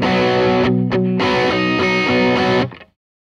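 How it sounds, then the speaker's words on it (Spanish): An electric guitar through a distortion pedal into a Marshall Origin 50 tube amp plays loud, thick chords for nearly three seconds, with brief cut-offs early on, before ringing out and cutting to silence. "Esta es una distorsión."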